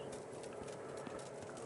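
Horse galloping in the medieval video game Kingdom Come Deliverance on PS5, a quick even clip-clop of hooves under a faint steady background, fairly quiet.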